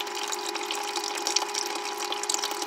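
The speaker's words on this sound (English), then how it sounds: "All right, my water flow is getting a little bit better now." Steady water rushes through a hose flushing barnacles out of a marine air-conditioning unit, a continuous close hiss with a constant pump-like hum underneath and no talking.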